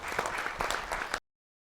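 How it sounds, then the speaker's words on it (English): A crowd at a Washington, D.C. forum claps in a fairly loud, dense burst that swells and dips slightly, then cuts off abruptly after about a second. "Join me, please, in a rousing hand of applause."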